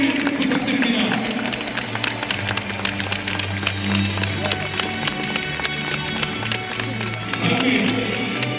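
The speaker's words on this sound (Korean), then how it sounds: "다시 한번 뜨거운 박수를 부탁드립니다." At a football retirement ceremony for Jeonbuk Hyundai Motors veteran Choi Chul-soon, spectators clap through a sustained round of applause with crowd noise throughout, and some voices rise over it.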